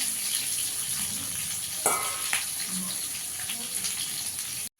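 Potatoes and onions fry in a pan for a fish curry, a steady close sizzle running throughout with a couple of brief clatters partway through, no voices.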